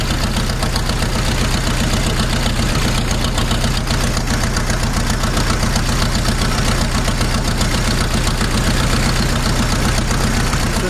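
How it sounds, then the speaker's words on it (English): A tractor engine idles steadily just after starting, with a slow, even low thump and a constant mechanical rattle, loud and close throughout, with no speech. "This thing idles so slow,"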